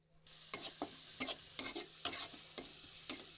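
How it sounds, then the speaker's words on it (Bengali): Onion and spices frying in a pan, with a steady close sizzle broken by repeated stirring scrapes at a roughly even rhythm, and no voices. "দেখছেন অনেক সুন্দর করে ভাজি হচ্ছে।"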